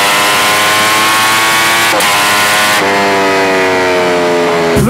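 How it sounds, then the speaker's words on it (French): A Ducati Panigale V4 motorcycle with an 1100 cc V4 engine at high speed on the autobahn, its loud, steady engine howl holding high revs through a couple of gear changes, close to the microphone and without talk. "Le bruit il est incroyable. C'est un 1100 cm3, 4 cylindres en V, c'est incroyable."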